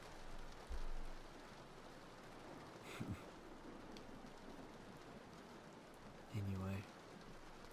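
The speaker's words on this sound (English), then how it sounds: "It is really enjoyable when it's raining but you're indoors." Steady rain falls outside, heard from indoors as a soft, continuous hiss under the room, with a couple of brief thumps and a short spoken word from a nearby voice.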